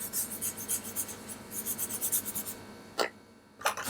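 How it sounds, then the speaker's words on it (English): A brush dabs pigment powder onto a silicone resin mold in close, quick, rhythmic scratchy strokes. A pause follows, then two sharper brushing bursts, with no talking. "So all I do is brush it on, it sticks to it"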